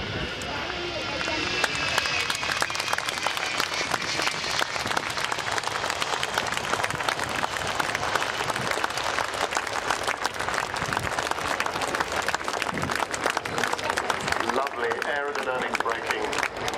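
Crowd at an air show breaks into sustained applause as an aircraft touches down, a dense, continuous wash of clapping mixed with distant aircraft engine noise, with a voice speaking over it.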